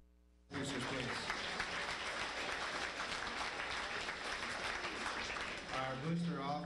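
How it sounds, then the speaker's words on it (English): A crowd at a high school winter sports banquet bursts into sustained, dense applause that holds steady for several seconds, with voices rising near the end. "round of applause for boosters, please."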